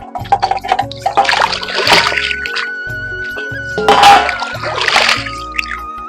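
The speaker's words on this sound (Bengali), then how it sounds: "আর কিছু থালা বাসন ছিল সেগুলো এখন সকালবেলা ধুয়ে নিচ্ছি" Dishes being washed by hand with splashing, dripping water, likely at a home outdoor tap in the morning; irregular splashes and trickles with clinks come in close, uneven bursts, with some background voices and noise.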